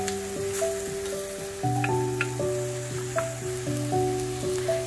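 Beef strips cooking in a hot wok with bamboo shoots, a light crackling sizzle with scattered pops over a repeating tonal background, fairly close and without speech.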